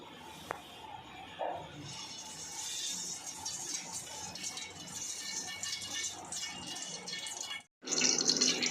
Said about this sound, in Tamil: ஒரு பாத்திரத்தில் எண்ணெய் ஊற்றிக்கலாம்.